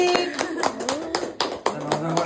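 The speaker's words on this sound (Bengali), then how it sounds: "হাততালি।" Hands clapping at an anniversary celebration, a quick run of sharp, uneven claps from several people close by, mixed with voices talking.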